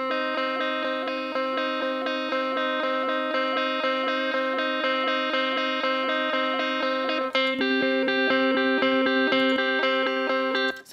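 Tonal percussion loop run through compression and distortion, thin and buzzy, repeating steady rhythmic hits with a fuller, brighter change in the pattern partway through.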